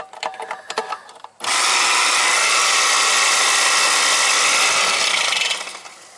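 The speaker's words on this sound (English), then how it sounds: "It ain't sounding too good. Compressor's shot. That's the compressor!" A Carrier air conditioner compressor strains to start after a jump kit is fitted, a harsh loud buzzing hum that kicks in abruptly after a few clicks and holds steady for several seconds before fading.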